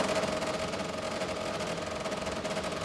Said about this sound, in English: That's sounds like a Wankel engine.